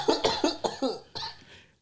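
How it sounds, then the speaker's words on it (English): A person coughs in a quick series of about six dry bursts, close and fairly loud, with the last ones trailing off while they are laughing. "No, I'm coughing because I'm laughing."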